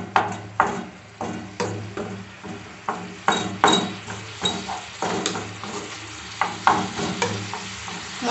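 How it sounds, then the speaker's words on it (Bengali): Radhuni seeds tempering in hot oil for a Bengali bata fish jhal, heard as close, repeated stirring strokes and light clinks of a spoon against the pan over a soft sizzle, with no talking. "এখানে আমি রাঁধুনিটা ফোড়ন দিচ্ছি।"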